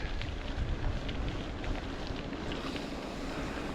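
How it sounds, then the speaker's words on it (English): Strong wind buffets and roars against the microphone outdoors, a constant low rumble with gusty peaks, no voices. "But windy out there."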